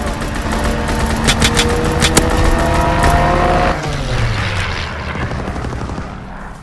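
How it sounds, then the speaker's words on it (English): Fighter aircraft strike in the World War II shooter Call of Duty WW2: a loud, dense roar of engines and rapid gunfire rumbling steadily, then easing off toward the end. "Our team fighter aircraft ready."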